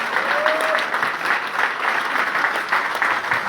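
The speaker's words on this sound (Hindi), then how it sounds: "ताली जोरदार बजाइए तो बजाओ मजा।" Audience applause fills a hall during a business training seminar, a steady, dense wash of many hands clapping at close range and fairly loud throughout.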